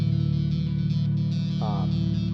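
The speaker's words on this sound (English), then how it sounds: "The distorted part, the part with the distortion repeats 4 times, and then you let your last note ring out." Distorted electric bass part, played as a bass tutorial example, a sustained, buzzing, effects-heavy tone that holds steadily throughout with a brief higher note shimmer near the end, loud and alone without talk.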